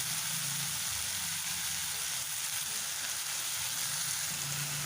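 Minced meat keema frying and being stirred in a pan, a steady, close hiss and sizzle that carries on throughout.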